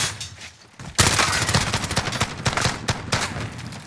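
Dense automatic gunfire in Call of Duty: Warzone on Rebirth Island. After a quiet second, a loud, continuous burst of rapid shots rattles on to the end.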